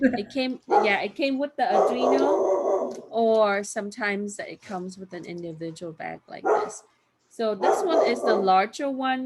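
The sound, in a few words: dog barking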